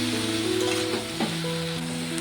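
Vegetables with tomato and green chillies frying in a pan for a Bengali vegetable bori chorchori, a steady close sizzle throughout with a brief stir or clatter near the middle.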